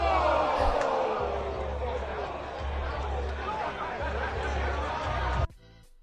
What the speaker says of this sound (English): and you're going to hear the crowd.